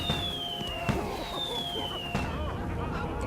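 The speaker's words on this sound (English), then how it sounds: "You just sit there and do fireworks the whole time." Fireworks set off from the box of fun in Guild Wars 2 whistle and crackle in a continuous dense wash, with rising whines and scattered pops under faint game ambience.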